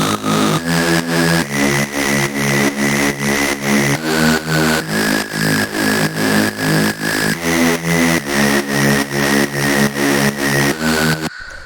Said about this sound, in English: And then we have this pad.